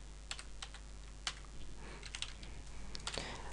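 Soft, rapid keystrokes on a computer keyboard as an IP address is typed into a Minecraft multiplayer screen, with a quiet burst of clicks, a short pause, then more typing over a faint steady hum.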